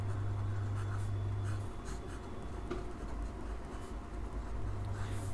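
Pen on paper while working a math problem: soft, continuous scratching strokes close up, steady throughout with no talking.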